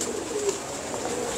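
Pigeons coo softly at a fancy pigeon breeder's loft, a low murmuring call steady across the short stretch against a faint hiss of background noise.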